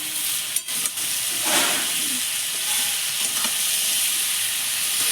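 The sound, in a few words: vegetables frying in a pan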